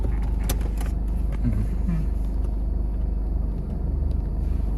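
Car engine rumbling steadily during a first-day driving practice session, a close, continuous low drone inside the vehicle with faint background sounds.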